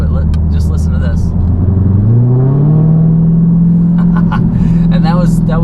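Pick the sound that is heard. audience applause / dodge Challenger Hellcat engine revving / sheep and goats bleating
dodge Challenger Hellcat engine revving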